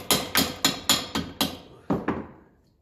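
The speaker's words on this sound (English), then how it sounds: "we can afford to use a heavier hammer for the pulley here" A heavy hammer strikes a corroded pulley on a 1954 Ferguson 20 diesel tractor: eight sharp metallic blows, six in an even rhythm and then two more after a short pause, close and loud with ringing decay and no talk.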